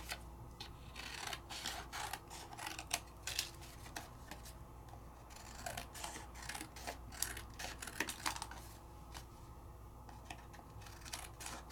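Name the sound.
trimming out stamped paper pieces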